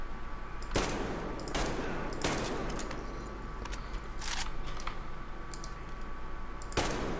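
Gunfire in the video game Metro Exodus comes as sharp, close bursts of shots at irregular intervals over a steady background of game ambience.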